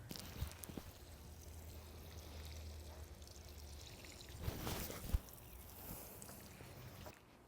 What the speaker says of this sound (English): we're just gonna water them in really well.